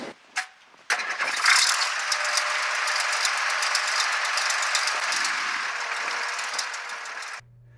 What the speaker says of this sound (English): then we're going to fire it up and just slowly wheel that track across the idlers